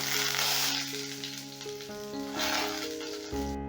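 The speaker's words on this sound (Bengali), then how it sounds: "তেলে দিয়ে দিচ্ছি ফোড়ন দিচ্ছি দুটো শুকনো লঙ্কা দিচ্ছি এক চামচ গোটা জিরে" Two dry red chillies and a spoonful of whole cumin sizzle in hot mustard oil, a close, steady frying hiss that swells and eases, with tonal background music playing alongside.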